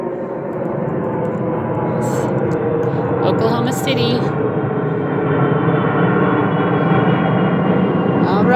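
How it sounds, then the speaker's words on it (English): A fixed-wing airplane drones steadily overhead, a loud continuous engine roar filling the whole stretch, while a person speaks briefly over it. "there's an airplane flying overhead"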